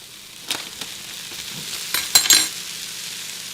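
Curry powder and coriander powder hitting hot oil in a pan for a lentil curry, a quiet background sizzle broken by a few sharp scrapes and clinks of a utensil, loudest near the end.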